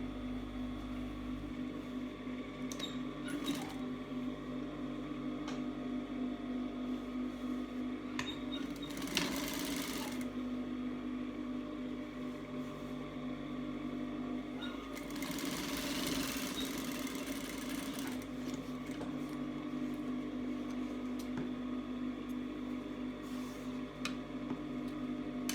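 A sewing machine runs steadily while stitching a narrow rolled hem along the front edge of a cloth face mask, a constant close mechanical hum with two louder bursts of faster stitching in the middle.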